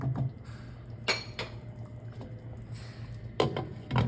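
Ingredients are stirred in a cooking dish for Caribbean oxtail, with a few sharp clinks of utensil against the pot amid quiet scraping and a low steady hum.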